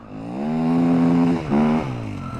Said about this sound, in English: Alright, so he's skidding it in the plant pot.